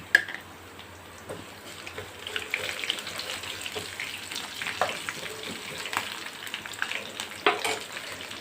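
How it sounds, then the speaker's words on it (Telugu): Chopped green chillies fry in a pan with a soft, fairly faint sizzle, punctuated by occasional light clinks and stirring sounds. "ఇప్పుడు 2 పచ్చిమిరపకాయలు కట్ చేసుకుని వేసుకొని ఫ్రై చేసుకుందాం."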